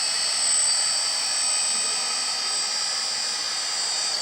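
A metal 1/14-scale RC hydraulic mobile crane truck retracts its outrigger legs with a steady, close, high-pitched electric whine that holds even and unbroken throughout.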